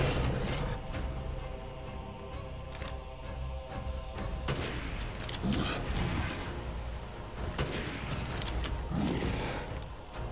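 Gunfire from a powerful gun in the Resident Evil Village video game, a dense run of sharp bangs and booming blasts over a steady rumbling game soundtrack, loud and continuous throughout.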